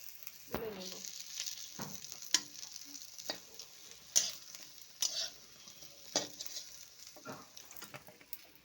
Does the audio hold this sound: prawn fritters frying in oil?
yes